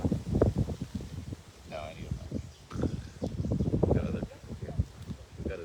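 Strong wind roars and buffets the microphone outdoors at the northern point of Okinawa, a rough, gusty low rumble running throughout while voices talk briefly under it.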